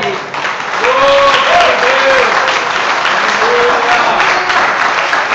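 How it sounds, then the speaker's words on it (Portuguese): A Portuguese-speaking church congregation applauds, a loud dense sustained clapping that swells in after a brief quiet start, with voices shouting over it. "Vamos aplaudir ao Senhor?"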